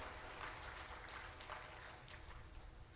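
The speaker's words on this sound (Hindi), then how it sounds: "ताली बजाओ ऐसे उन संस्थाओं के लिए" An audience claps together in a hall during a spiritual talk. The applause is a dense, continuous patter of many hands at a moderate distance and lasts for the full few seconds.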